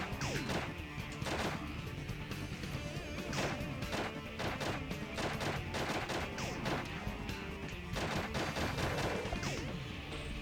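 Weapon fire and impacts in the Shadow the Hedgehog video game, a dense run of sharp cracks and crashes repeating over a busy, loud game soundtrack.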